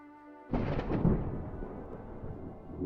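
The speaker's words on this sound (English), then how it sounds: "And then the thunderclap." A sudden deep thunderclap bursts out loud, then rolls and rumbles slowly away.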